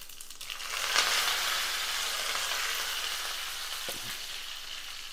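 Mustard seeds, urad dal and fresh curry leaves sizzle and crackle in hot oil while tempering for South Indian sambar, a loud close frying hiss with a sharp burst near the start, spitting pops, and a brief clatter near the end.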